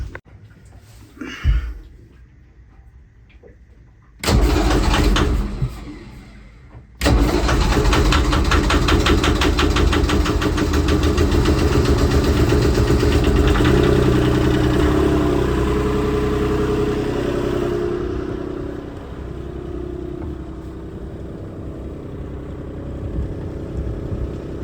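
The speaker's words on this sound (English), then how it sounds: "Let's fire up the motor and get these lines undone." The motor on a 40-foot sailboat cranks briefly, then catches and runs. A steady, loud mid-pitched engine drone follows and holds for about twenty seconds, close by, with no talking.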